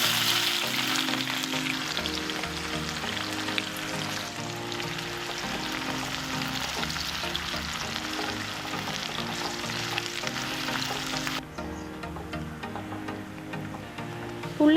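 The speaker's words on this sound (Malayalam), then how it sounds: "എണ്ണ നല്ലോണം ചൂടായിട്ടുണ്ട്. അതിലോട്ട് 2 വലിയുള്ളി നീളത്തിലരിഞ്ഞത് ചേർത്ത് കൊടുക്കാം." Two large onions, sliced lengthwise, fry in well-heated oil in a pan for a Kerala-style beef curry, giving a loud, continuous dense sizzle that drops a little in intensity toward the end.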